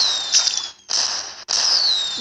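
Whistling fireworks in the Roblox game Meep City during a New Year celebration: high descending whistles in three bursts, each separated by a brief gap, fairly loud and steady with no talking.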